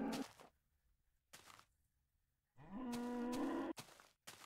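A baby cow in a farming video game gives several loud, drawn-out moos with short silent gaps between them, the longest call near the end.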